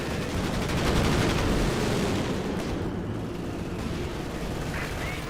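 A Panzer IV tank taking hits in Company of Heroes 2, a continuous dense roar of battlefield gunfire and explosive impacts, loud and steady throughout.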